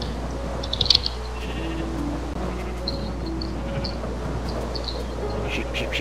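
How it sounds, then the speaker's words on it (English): Sheep bleating in a video game dungeon, several short wavering bleats spread over six seconds, mid-distance, with a constant buzzing, insect-like ambience and a brief sharp click near the start. "Sheep, sheep, sheep, sheep,"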